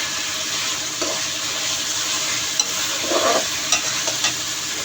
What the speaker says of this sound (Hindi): टमाटर को हल्का सा फ्राई करेंगे।